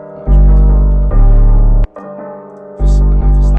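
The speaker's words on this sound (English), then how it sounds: "This is literally just the basic root notes, the basic 808s." Deep, booming 808 bass notes made in FL Studio play basic root notes in a steady pattern, long sustained hits with short gaps, loud and upfront with faint higher tones above.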